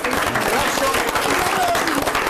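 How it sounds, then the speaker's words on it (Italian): Young football players of a youth team get a loud, dense round of applause in a TV studio, steady clapping filling the whole stretch with voices murmuring underneath. "fatevelo anche voi, un bel applauso"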